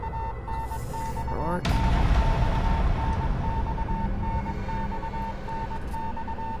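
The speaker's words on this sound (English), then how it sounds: "There's an incessant beeping, like from a telegraph." Incessant telegraph-like beeping in the video game Death Mark, a steady rhythmic dash-dot pattern of tones repeating throughout, joined by a sudden loud burst of rumbling noise early on that continues underneath.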